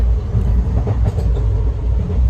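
Steady low rumble and rattling of a moving train heard from inside a carriage, loud and continuous with no talking.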